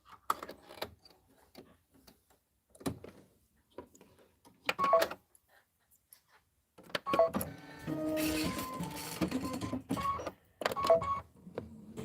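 An embroidery machine stitching out a design whirs and clatters in short mechanical bursts separated by near-silent pauses, then runs in a longer stretch of busy rattling motor noise.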